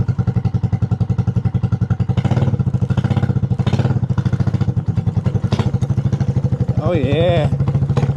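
A homemade 250cc go-kart engine runs close by with a rapid, buzzing idle, then revs up briefly near the end, while a person speaks over it.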